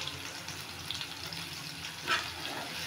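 Garlic and onion sautéing in a pan for Tamil poondu kulambu give a steady, close sizzle and hiss with a brief louder crackle burst partway through, no talking.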